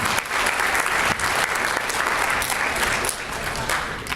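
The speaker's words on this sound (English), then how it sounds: "let's give them a hand clap" Audience at a high school freshman assembly in the Syracuse City School District clapping, a dense, loud, sustained round of applause from a large crowd that carries on without letup.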